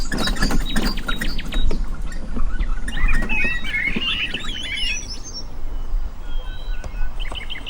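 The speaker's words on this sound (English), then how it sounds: "We can still hear the birds and the bees and the cuckoos." Birds chirp and trill repeatedly on a tranquil morning beside the River Maun, with bursts of song close by, over a soft, rustling outdoor background.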